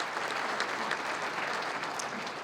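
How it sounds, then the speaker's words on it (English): Steady applause from an audience at a Missouri Sports Hall of Fame outdoor sports luncheon, honoring a national anthem singer; dense, even clapping fills the room throughout without letting up. "Let's give him a big round of applause."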